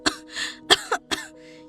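A voice actor performs a fit of coughing in a narrated Tamil audio drama: four sharp, close bursts over roughly two seconds, with brief breathy gaps between them and a low steady background tone.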